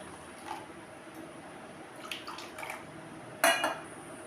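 Water poured into a strained mango mixture makes short, close splashes and drips, with faint clinks of a utensil against the bowl.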